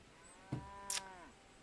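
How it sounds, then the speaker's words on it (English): A pig in the farming game Bellwright gives a single drawn-out grunting moan with a tonal, sliding pitch and a brief sharp burst near its end, heard close and alone against a quiet background. "It's a pig."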